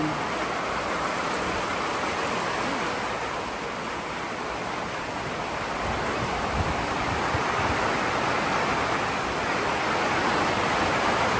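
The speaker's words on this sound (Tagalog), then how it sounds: "Biglang buhos ang ulan." A sudden heavy rain downpour roars steadily as a dense, even hiss of falling water, loud and unbroken for the full duration with no voices.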